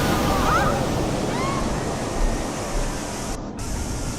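Ocean waves wash onto a shore in a steady, continuous roar of surf and spray, loud and close, with a few faint higher tones drifting over the constant hiss.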